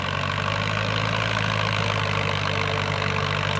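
An old Ford 6610 tractor engine idles steadily while levelling a rice field, a loud, even diesel chug that holds without change from start to finish, with no talking.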